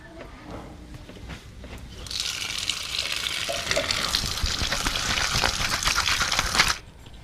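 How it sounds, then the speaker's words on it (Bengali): Whole bata fish are washed in water, giving a steady splashing and rushing sound that starts after a couple of seconds. It stays loud and continuous and then stops abruptly near the end. "মাছগুলো ধোয়া হয়ে গেছে"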